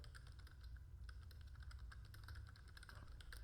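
Quiet typing on a computer keyboard in Notepad, a run of soft, irregular key clicks with a low background hum, no talking.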